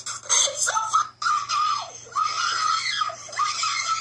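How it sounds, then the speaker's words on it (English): A girl screams in long, shrill bursts with a brief break between them, loud and close, with some raised, agitated vocal sounds mixed in. "here the girl just started screaming and turned around in circles"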